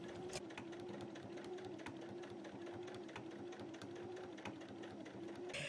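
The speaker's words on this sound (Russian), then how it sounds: "Оформлять веточку буду усиленной трикотажной строчкой" A domestic sewing machine stitching a reinforced knit stitch on denim, running continuously with a fast even mechanical whir and rhythmic needle ticks, close and steady.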